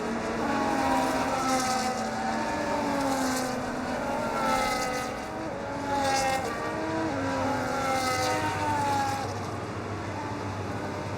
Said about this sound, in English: As the cars come back towards the grid to line up for the start of the race